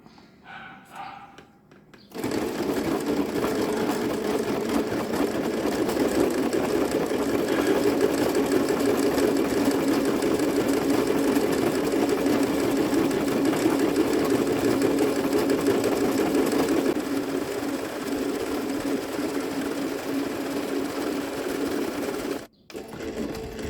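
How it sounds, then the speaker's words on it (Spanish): A sewing machine zigzag-stitching elastic for a shapewear girdle runs in one long continuous buzzing stretch, close and steady, starting after a brief quiet moment and stopping abruptly near the end. "Voy a hacer una costura de un lado y voy a repetir la misma costura del otro lado."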